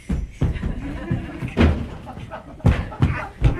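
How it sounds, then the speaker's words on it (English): A door is pushed open against strong wind, with several heavy thumps and knocks at close range while people talk over them. "let me get the door open"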